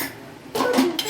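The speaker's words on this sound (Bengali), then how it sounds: "এবার এটাকে আমি রোস্ট করে নিই।" Whole spices are dry-roasted in a pan for mutton biryani. After a quiet start comes a short burst of metallic clatter and scraping from the pan and utensil, close and fairly loud.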